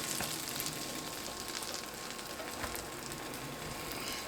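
A Reuben sandwich of corned beef fries in butter in a pan, giving a steady, dense sizzle that stays even throughout with faint crackles, no talking.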